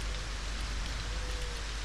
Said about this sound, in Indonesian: Nah, hujan lagi, guys.